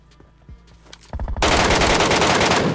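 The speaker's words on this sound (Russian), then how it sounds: "первые звуки выстрелов" Gunshots in PUBG Mobile (Metro Royale mode): a few scattered shots, then a sudden burst of rapid automatic fire that continues loudly to the end.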